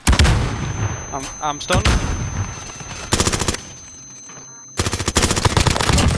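Automatic gunfire in the shooter game Call of Duty: Modern Warfare comes in three loud rapid bursts separated by short lulls, while a player's voice speaks briefly over the action.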